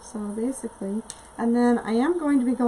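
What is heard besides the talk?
None of the usual background noises is heard.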